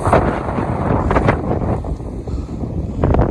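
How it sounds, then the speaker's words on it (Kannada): Strong wind buffets the microphone in heavy, continuous gusts on a hilltop viewpoint at Ettina Bhuja, Sakleshpur, roaring loudly with brief dips and surges. "ಹೆವಿ ಗಾಳಿ"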